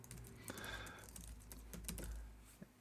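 Fast, light clicking of typing on a computer keyboard, steady keystrokes close by over a low room hum with no talking.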